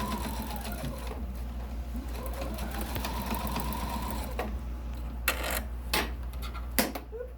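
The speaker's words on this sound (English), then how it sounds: "And then you just stitch right along the edge there." A sewing machine stitches elastic along the edge of a fabric face mask, running at a steady close hum with a few sharp clicks near the end and no talking.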